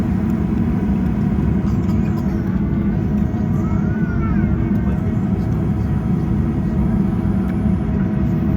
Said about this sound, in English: It will be a very quick taxi today as the terminal building is almost directly at the end of the runway.